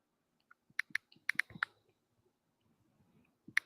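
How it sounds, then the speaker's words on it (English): Sparse computer keyboard typing, a few faint scattered keystroke clicks in small bursts with gaps between them. "Bobby, we hear you typing"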